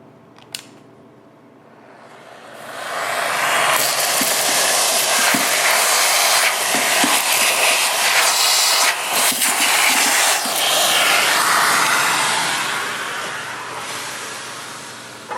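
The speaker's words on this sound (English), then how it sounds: "Okay, so I vacuumed the beans that I could see out." A vacuum cleaner sucks leftover coffee beans out of a Saeco Easy coffee machine, a steady loud roar with a broad hiss that starts after a couple of seconds, runs unbroken and carries small rattling ticks of beans being drawn in.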